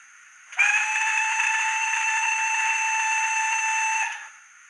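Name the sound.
model locomotive steam whistle long blast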